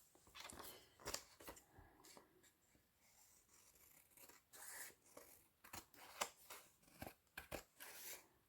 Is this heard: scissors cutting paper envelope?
yes